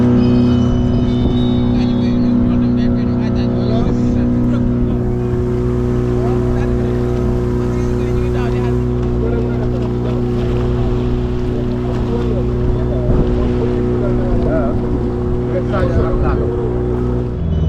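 A steady, droning boat engine runs continuously on a crossing to Barra, The Gambia, with a constant hum and faint wind and water noise around it.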